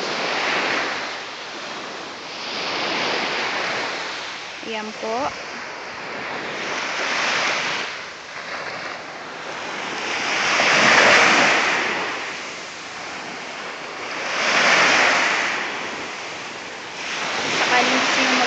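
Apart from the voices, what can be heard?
ocean waves at a beach on Boracay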